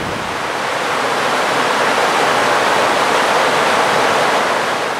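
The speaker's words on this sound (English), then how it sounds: "It's just amazing to see the water move down these spillway chutes" Water rushing down the spillway chutes of a scale model of the Isabella Lake Dam, a steady, loud, broadband roar of fast-moving water that holds constant with no talk.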